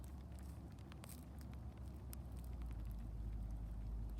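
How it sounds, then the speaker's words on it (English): Rain falls during a wind storm as a steady close patter with scattered sharper drops, over a constant low rumble of wind buffeting, with no talk. "It is raining."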